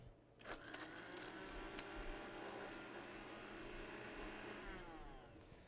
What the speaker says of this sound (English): So then it's a matter of just blending that to puree it.